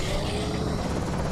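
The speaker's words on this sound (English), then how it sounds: "Oh crap, do you hear that? I've got the helicopter meta event." Helicopter flying overhead in the Project Zomboid video game, a steady, loud rotor drone filling the whole stretch with no break.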